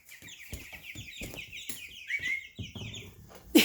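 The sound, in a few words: baby chick cheeping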